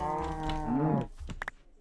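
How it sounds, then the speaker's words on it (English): Cows lowing inside the Minecraft video game during a UHC survival match, one long harmonic moo lasting about a second, followed by a few short clicks and game noises. "I just need to find some cows."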